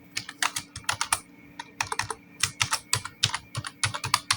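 Computer keyboard keys clatter in a steady run of quick close-up presses with short pauses, as someone types and taps the tab key while laying out a table of contents in a document, with no voices.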